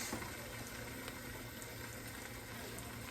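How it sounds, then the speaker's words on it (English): Broth is poured into a gumbo pot, giving a steady, close liquid rush that holds at an even level throughout the short clip with no talking. "now I'm going to go ahead on and I'm going to add my broth"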